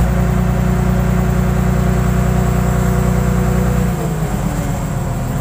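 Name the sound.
old car engine running and revving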